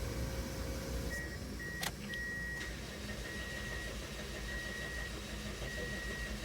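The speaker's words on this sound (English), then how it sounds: "The engine sounds very nice." A 2002 Toyota Echo engine idles with a steady low rumble, a brief mechanical click and a thin whine coming and going over it.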